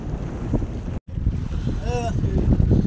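Strong, steady wind buffets the microphone at a riverside boat ghat in the Sundarbans, a continuous rushing roar with a brief dropout partway and a faint tonal whistle rising above it.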